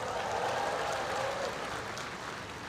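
Applause from an audience at a national convention of public attorneys, a steady wash of clapping that fades slightly toward the end, moderately distant and without voices on top.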